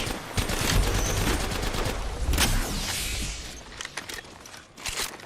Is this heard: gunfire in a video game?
yes